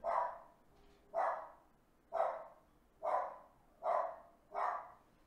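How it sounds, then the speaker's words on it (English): Dogs barking indoors during a live stream, six evenly spaced, moderately distant woofs with no one talking between them. "Hey, dogs, quit barking."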